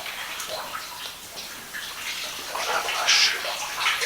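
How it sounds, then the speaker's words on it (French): Rainwater runs and trickles inside an abandoned cheese factory during a rainy day, a steady close hiss of flowing and splashing water that continues throughout. "Il y a plein d'eau qui coule parce que aujourd'hui il pleut."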